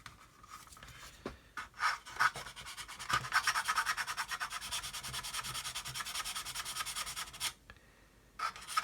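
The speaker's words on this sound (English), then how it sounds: "Now here's a 400 grit Matador sanding stick, so I can get here, I can also sand the top" A 400 grit Matador sanding stick rubbed over a model aircraft's instrument panel area, giving close, rapid back-and-forth scratchy strokes that build into a sustained run, then a few pauses and short strokes.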